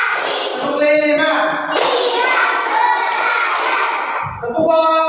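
A class of schoolchildren claps hands together in a quick rhythmic pattern, with sharp bursts of claps close by and young voices mixed in.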